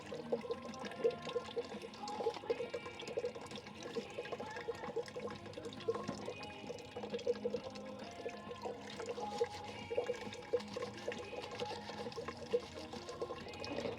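Running water splashes and pours steadily while boxing gloves and a mouth guard are washed, a continuous close trickle with a faint voice in the background.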